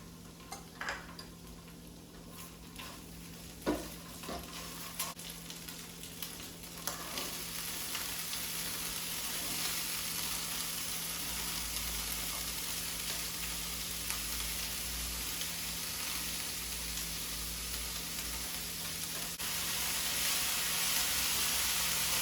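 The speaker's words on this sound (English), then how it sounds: "I am just going to saute the bean sprouts till they wilt down a little bit" Bean sprouts sautéing in sesame oil with garlic and ginger, a steady close sizzle that grows louder and denser after a few seconds, with occasional stirring clicks early on.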